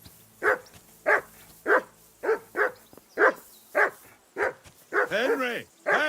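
A dog in the Kingdom Come Deliverance II video game barks a string of about ten sharp, evenly spaced barks close by, ending in a run of quicker yelps, with no talk over them.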